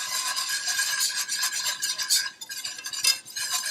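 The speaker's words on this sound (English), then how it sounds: "you need to be constantly whisking this butter flour mixture" Steady whisking of a butter and flour roux for baked macaroni and cheese, a close, continuous scraping and stirring with clinking metal against the pan, nearly uninterrupted with a brief pause midway.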